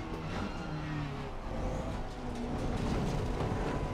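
Audi V10 race car engine in Assetto Corsa Competizione, a loud, steady high-revving roar that holds near and constant throughout, with no talk over it.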